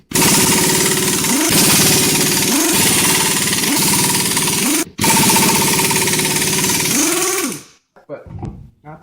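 An impact wrench or power tool spins 13/16 nuts off the rear end of a Ford F150 during pinion and wheel seal repair, a loud continuous rattling whir in bursts that stops abruptly near the end.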